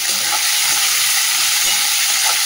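Chopped onion dropped into hot oil with a cumin, bay leaf and dried red chilli tempering, a loud steady sizzle with faint stirring scrapes, no talking.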